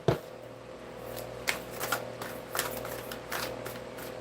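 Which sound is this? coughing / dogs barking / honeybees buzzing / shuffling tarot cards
shuffling tarot cards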